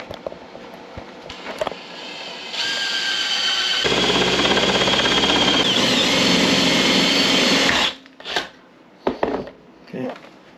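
A power drill bores out the rivets on a DIY Berkey-style water filter, a sustained high whine that rises under load for several seconds, then stops, followed by brief clicks and handling noises.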